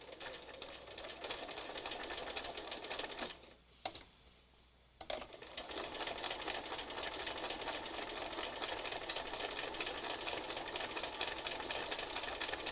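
A sewing machine runs fast and steady to stitch scraps of fabric patches down, a close rhythmic whirring that stops for about a second and a half before starting again.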